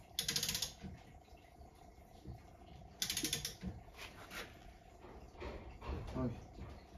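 Ratchet clicking in quick bursts while tightening a bolt during a shock absorber change on a Hyundai Accent, close and fairly faint, with people talking between the bursts.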